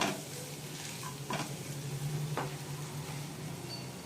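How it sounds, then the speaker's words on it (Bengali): Spice masala sautés in a pan, producing a continuous moderate sizzle with a few short scraping stirs of a utensil, alongside a low steady background hum. "আমি মশলাটা একটু কষে নেবো।"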